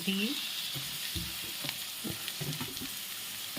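Fish pieces sizzle and fry steadily in a pan, with close clinks and scraping of turning the pieces throughout.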